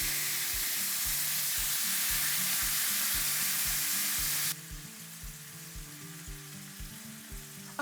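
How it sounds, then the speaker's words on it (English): Venison strips sizzle loudly in a very hot pan on medium-high heat, a bright steady hiss with rhythmic low thumps underneath, dropping suddenly to a quieter sizzle halfway through. "I'm gonna go ahead and add the venison into my very hot"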